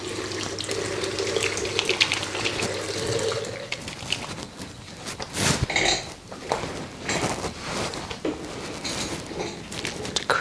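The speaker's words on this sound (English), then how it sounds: "Mixed with a little warm water." Warm water runs from a tap during a skincare facial, a continuous close splashing stream for about ten seconds that shifts in texture partway through, with no talking.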